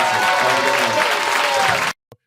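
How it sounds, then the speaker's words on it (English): Audience applause fills a stand-up comedy show for nearly two seconds, a dense steady clapping roar with light crowd noise, then cuts off abruptly, followed by one faint brief tap. "Give it up for Josh Johnson."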